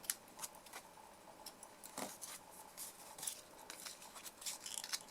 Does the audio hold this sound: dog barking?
no